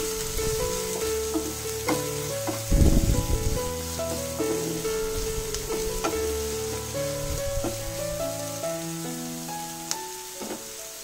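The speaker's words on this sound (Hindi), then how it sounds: "प्याज हम थोड़ा सॉफ्ट होने तक इसको फ्राई करेंगे।" Chopped onion frying in a pan for baingan bharta, a constant loud sizzle with occasional spoon clinks and a brief louder burst of stirring, close up and without speech.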